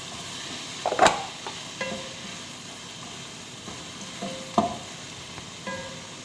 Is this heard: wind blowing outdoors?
no